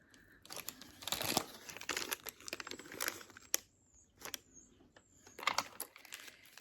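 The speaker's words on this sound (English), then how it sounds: "Trying to find a piece of paper." Papers rustle and crinkle in short, irregular bursts as someone searches through them, close and fairly quiet, with no talk.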